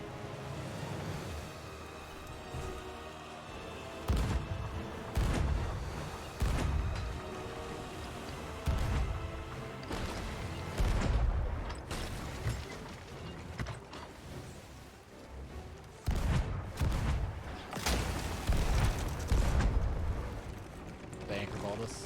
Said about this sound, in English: Get ready on right side cannons.